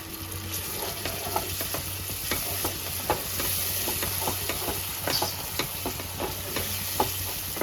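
Spice masala frying with whisked yogurt and a splash of water for chicken curry, a continuous close sizzle broken by frequent scraping stirs of the spoon in a fairly steady rhythm, no talking.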